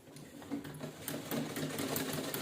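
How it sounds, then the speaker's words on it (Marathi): A sewing machine stitches folded saree fabric into a slipper stand cover, running in a steady, rapid needle clatter throughout, close and moderately quiet. "आणि त्याच्यानं शिलाई करून घ्यायची."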